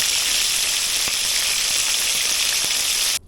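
Walleye fillets fry in a hot pan with a dense, steady sizzle and crackle, loud and close, with occasional pops, cutting off abruptly at the end.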